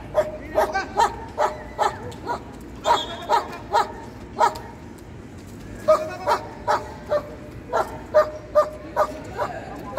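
A German shepherd barks in rapid, regular bursts at an outdoor dog show, loud and close, with short yips between volleys and a handler's voice occasionally under the barking.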